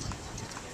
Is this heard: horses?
yes